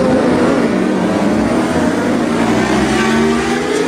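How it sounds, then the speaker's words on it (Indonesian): A racing motorcycle engine revs hard and steadily up close, a loud continuous roar with a rising pitch that stays strong for the whole stretch, with no voices. "Widih, lihat, ada motor balap."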